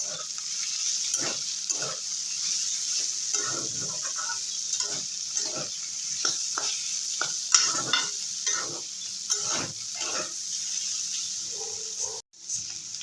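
Bitter gourd, fish roe and chopped onion are stirred in a sizzling frying pan. Repeated scraping spatula strokes sound close over a continuous hiss of frying.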